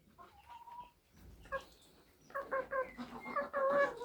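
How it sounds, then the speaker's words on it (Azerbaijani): Chickens cluck softly in a coop, a few quiet scattered calls that build into a denser run of close, repeated clucks toward the end. "Burada da toyuqlarımız normal yatıblar yerlərində"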